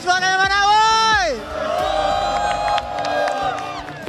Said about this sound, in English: We want to hear you cheer.